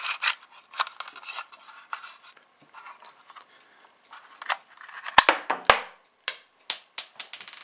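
A 1975 Dinky die-cast USS Enterprise toy is handled with dry plastic and metal scratches, then loaded and fired, giving a few sharp, close snapping clicks as the disc shoots out.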